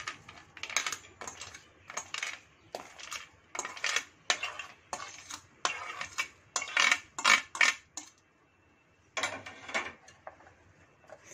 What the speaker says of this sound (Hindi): इसमें हम ऐड कर देंगे फ्राई किए हुए पीनट्स को।